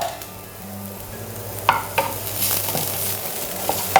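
Capsicum stirred in a hot pan with Kashmiri chilli powder, salt and sugar for dragon chicken, a soft sizzle with a few sharp scrapes and taps of the spoon against the pan.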